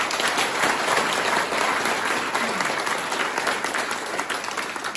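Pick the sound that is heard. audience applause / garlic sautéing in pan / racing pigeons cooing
audience applause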